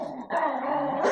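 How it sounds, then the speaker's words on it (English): Two dogs fighting at close range, with harsh growls, snarls and yelping barks bursting in after a brief dip and staying loud and agitated throughout. "Oh God, the dogs are going at it."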